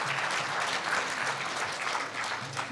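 A ceremony audience at Korea University's newspaper 70th-anniversary event gives a steady, full round of applause. The dense clapping holds at an even level throughout, with no talk on top.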